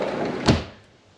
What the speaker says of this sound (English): Oh yes, I have to close the screen door